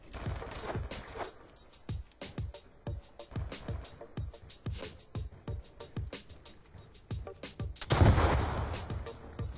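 Gunfire in the shooter game Black Ops 2, a run of close, sharp single shots at an uneven pace, with a louder burst of blasts near the end.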